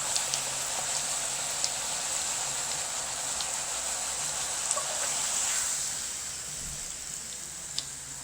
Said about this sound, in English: just going to keep on frying